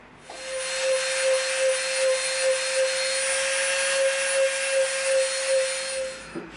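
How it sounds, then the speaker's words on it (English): A Dremel rotary tool rounds the edges of EVA foam pieces, giving a steady high-pitched whine with a soft rhythmic grinding pulse as the bit works the foam, continuous for several seconds and close by. "we're gonna Dremel the edges of both pieces."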